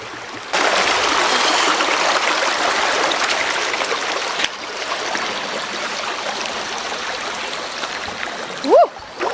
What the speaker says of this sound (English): The water feels pretty good, so I'm just gonna walk through it.